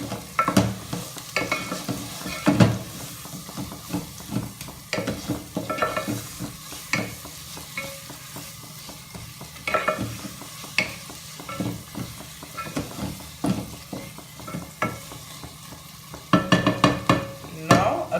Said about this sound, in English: And add sugar and amchoor powder and mix it well.